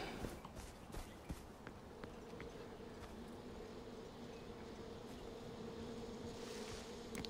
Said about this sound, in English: Killer bees, killer bees.